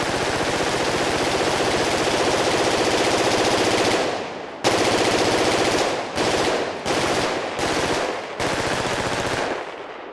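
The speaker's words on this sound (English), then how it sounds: "So if I fire my weapon while moving out of this forest area, you'll hear as it crossfades towards the urban area." Automatic weapon fire in a video game runs unbroken for about four seconds, then breaks into a string of short bursts as the surrounding ambience shifts from forest to an urban area; loud and close, with no voices.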